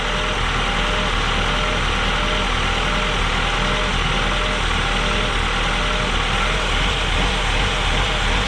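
A Honda engine idles with its idle air control valve unplugged, a loud, continuous drone with a faint, uneven rhythmic pulse, recorded close in the engine bay with no talking.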